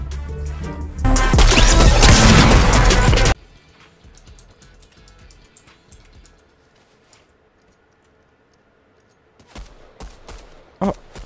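Gunfire in Fortnite opens with a loud, dense burst of rapid shots lasting about two seconds, then drops to faint scattered clicks and quiet background before a few sharp taps return at the end.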